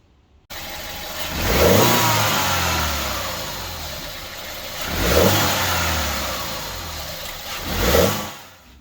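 A BMW E92 engine fitted with a Pipercross air filter revs three times from idle, each rise swelling loudly and falling back to a steady idle, close by with no talk.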